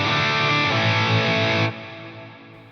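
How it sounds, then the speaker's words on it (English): A dense, sustained effected tone with a big hall reverb, cutting off partway and leaving a long fading tail. "So there's going to be a big reverb with really long trails."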